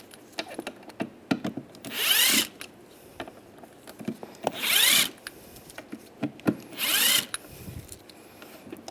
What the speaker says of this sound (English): take these 4 screws out using the Phillips head screwdriver